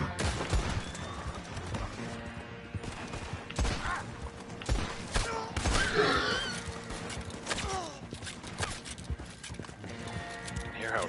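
Rapid, crackling gunfire in a Red Dead Online campsite defense fight, with repeated shots over a busy mix of galloping hooves, mechanical clatter and other battle noise.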